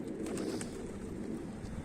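Arap dolapçı pigeons coo softly in a quiet loft setting, a few low gentle calls over faint background noise.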